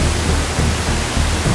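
Steady broadband wind rushing through the dense trees of Aokigahara forest in Japan, a continuous surging roar like distant ocean waves, loud and unbroken with no voices.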